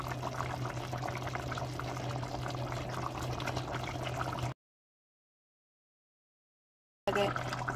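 Water pours steadily into a cooking pot for a pinakbet and beef soup dish, a dense, even splashing rush that cuts out abruptly, goes silent for a few seconds, then resumes.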